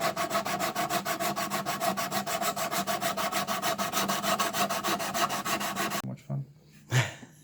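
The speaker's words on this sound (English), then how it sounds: "So now we sanded the fretboard" Sandpaper on a block scrubs back and forth over a flat ukulele fretboard from a StewMac kit, a fast, even rasping rhythm held close for about six seconds before it stops and a voice briefly speaks.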